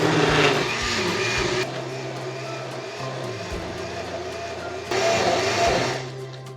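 A kitchen blender pureeing a cold soup of milk and coconut milk, a steady loud motor whir that drops in pitch partway through and rises again near the end, with no talking.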